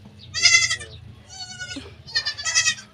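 Newborn goat kids bleating in two loud bursts, close by, with a short reedy call in between and a low hum underneath; part of a set of triplets just born.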